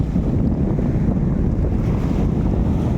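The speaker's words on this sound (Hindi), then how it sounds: "ये समुद्र की लहरें" Sea waves wash steadily under a cloudy sky, a dense, continuous low roar of surf mixed with wind rumble, loud and close with no voices.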